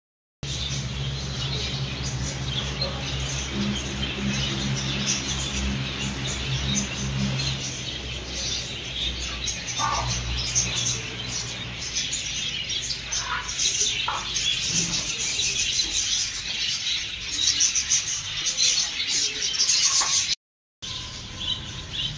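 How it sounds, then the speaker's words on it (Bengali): Birds chirping at dawn, including macaws kept nearby: scattered faint tweets and calls over a steady outdoor background hum, with distant murmuring voices and a brief cut near the end. "পাখিদের কিচিরমিচির আওয়াজ শুনতেই হয়তো পাচ্ছ"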